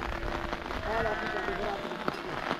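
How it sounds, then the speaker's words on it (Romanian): Steady rain patters on a surface in a constant wash of noise, with a voice talking faintly underneath, in the Retezat Mountains of Romania. "plouă una într-una"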